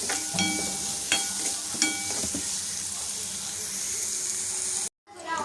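Carrots and beans sauté in a pan, a steady close sizzle with a voice talking over it, broken by a brief silent gap before the sizzle returns.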